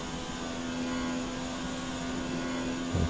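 An F1 race car engine at full throttle on the Azerbaijan street circuit in a racing game, a sustained high droning whine, steady and loud with no break.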